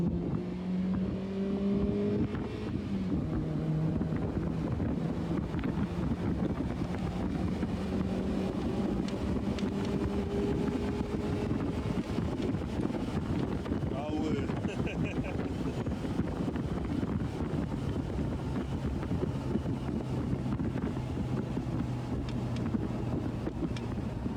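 A small go-kart drives low to the ground, its steady engine drone and rumble running continuously with wind buffeting the microphone, while people talk over it.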